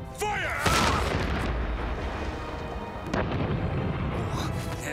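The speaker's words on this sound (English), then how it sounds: "First cannon!" Cartoon ship cannons fire two heavy booms a few seconds apart, loud and rumbling, with a noisy, churning background between the shots.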